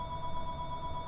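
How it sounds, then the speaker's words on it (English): A telephone rings steadily in the background, a faint sustained electronic tone over low room noise, with no voices. "Oh, that's the phone."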